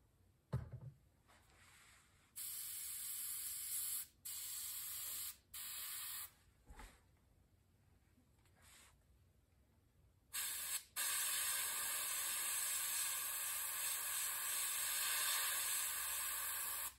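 Spray painting candy black paint along the top edge of a stencil, with several short hissing bursts followed by a long continuous spray, close and fairly loud.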